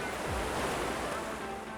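Whitewater rapids on the Arkansas River at the Buena Vista Whitewater Park in Colorado, a steady broadband rush of churning water that stays loud and continuous throughout, with no voices.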